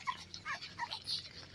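A male beagle or pug puppy gives a quick series of soft, high whimpers and yips, several short bursts in a row, fairly quiet and close.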